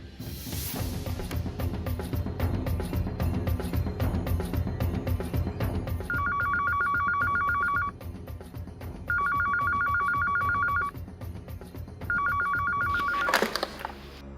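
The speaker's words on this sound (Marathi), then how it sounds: "तेव्हा मला एक फोन आला" A telephone rings in three bursts over loud dramatic background music in a TV serial crime drama.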